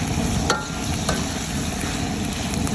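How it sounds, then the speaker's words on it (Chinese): Chicken pieces frying in a wok with Sichuan peppercorns, scallions and chili, a steady loud hiss of hot oil up close, broken by a couple of quick spatula scrapes and no talk. "再把咱们的鸡肉下锅"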